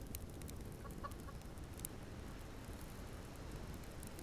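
A chicken in the survival video game Subsistence gives a few soft, brief clucks early on, faint beneath a steady wash of outdoor ambient noise.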